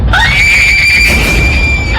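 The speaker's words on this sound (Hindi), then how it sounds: "जख्मी हालत में भी वो चीख पड़ी" An injured woman screams after being pulled from behind deployed airbags following a car crash: one long, loud, piercing cry that rises sharply and holds steady for about two seconds.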